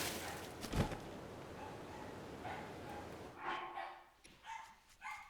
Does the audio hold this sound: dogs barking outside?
yes